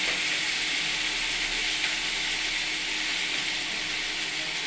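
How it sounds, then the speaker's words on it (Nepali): Onions frying in a pan give off an even, unbroken hiss, close and moderately soft, with no stirring knocks or voices. "प्याज फ्राई"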